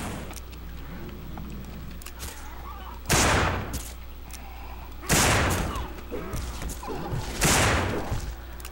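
Gunfire in the zombie video game No More Room In Hell: three loud, rough shots a couple of seconds apart, set against a constant low background rumble of game ambience.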